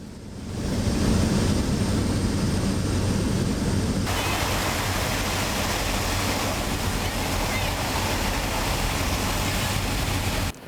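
Wind roars through the open window of a bush plane circling at 110 miles an hour over the Arctic tundra, a loud, steady rush over a low engine drone, growing stronger partway through.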